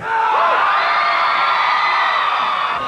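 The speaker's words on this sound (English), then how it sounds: "This crowd pumped up." A packed crowd at a political rally in a school gym roars with cheers, whoops and yells, a loud, steady wall of voices that carries on without pause.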